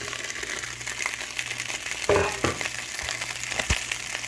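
Green beans dropped into bubbling, browning butter in a pan set up a busy sizzle and crackle, with a sharp burst of spattering as they hit the fat, then steady frying with occasional stirring clatter.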